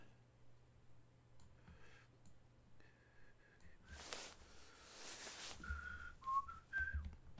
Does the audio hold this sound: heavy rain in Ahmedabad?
no